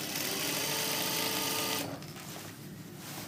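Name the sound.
sewing machine stitching an invisible zip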